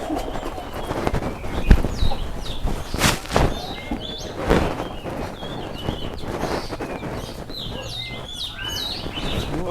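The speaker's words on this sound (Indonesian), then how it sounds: "Pantesan dari tadi recet suara burung teman-teman. Ternyata lagi ada kontes di sini." Many birds chirp and call at once at a bird-singing contest, a busy chorus of sharp tweets and trills over background clatter and occasional bangs.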